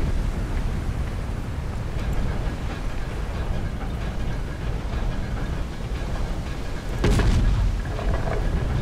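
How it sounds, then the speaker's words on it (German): A ship's cannon fires once in the horror video game Call of Cthulhu, a single heavy boom cutting through a constant low rumble of the vessel at sea. "So, Kanone."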